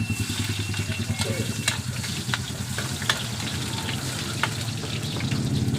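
Onions fry in a hot pan for a chicken caldereta, a steady close sizzle with occasional scraping clicks as they are stirred, plus a low engine-like hum in the background.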